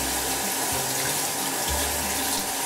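Cold tap water runs steadily into a sink as cooked pasta is drained in a colander and rinsed, a close, continuous splashing stream.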